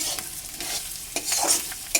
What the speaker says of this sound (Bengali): উপর থেকে আমি লঙ্কার গুঁড়ো এবং হলুদের গুঁড়োটা দিয়ে দেব দিয়ে ভাজা ভাজা করব